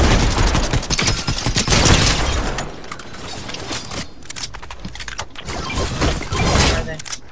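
Bursts of Fortnite gunfire crack and rattle in loud flurries over excited talking.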